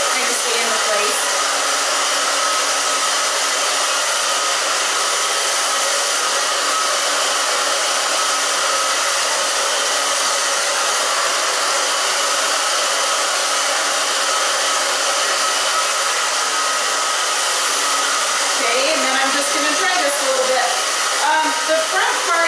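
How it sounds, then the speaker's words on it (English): A hair dryer blows steadily at close range for the whole stretch, a loud continuous rushing whine drying hair, with faint handling sounds near the end. "The front part you're going to want to dry kind of on an angle."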